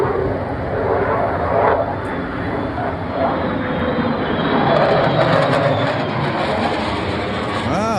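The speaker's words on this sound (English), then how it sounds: "this is a 5th gen, F-35, and a Raptor, I believe" F-35 and F-22 Raptor military jets pass overhead in a loud, continuous roar that holds steady for several seconds without a break.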